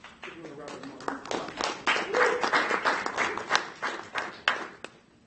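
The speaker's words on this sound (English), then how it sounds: "everyone, just give them a round of applause." A lecture audience at a space science panel breaks into applause, a dense burst of many hands clapping that swells quickly, holds for several seconds, and then thins out into scattered claps.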